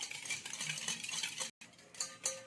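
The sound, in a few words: stirring sugar into milk with a spoon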